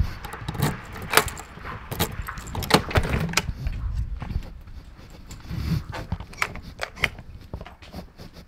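Car keys for a turbo-swapped Mazda RX-8 jangle and clink in several bright bursts, close by, over a low background rumble.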